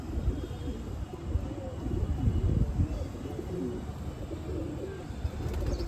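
Pigeons coo on a rooftop in Amritsar, with low, soft, rolling calls overlapping continuously against a light background murmur.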